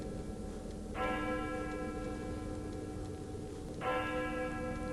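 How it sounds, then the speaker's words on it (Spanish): Two church bell strikes ring out a few seconds apart, each leaving a long humming resonance over a low background murmur. "Las campanas de la iglesia empezaron a sonar"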